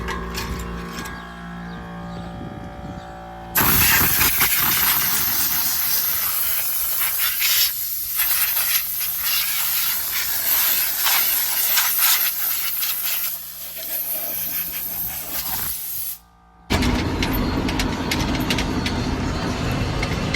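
Steady broadband air hiss from a compressor at a grandpa's farm shop on a Missouri dairy, loud and continuous for long stretches with brief breaks, alone without talk.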